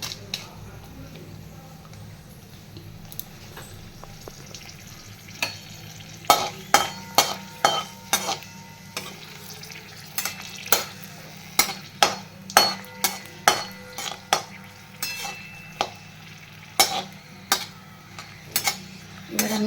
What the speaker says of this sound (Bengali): সাদা তেল দিয়েছি জিরে দিয়ে দিয়েছি এবার শুকনো লঙ্কা দিয়ে দেবো